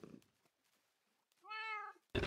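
Cats meowing in the Minecraft video game, with one sustained synthetic meow standing out clearly amid quiet background game sounds.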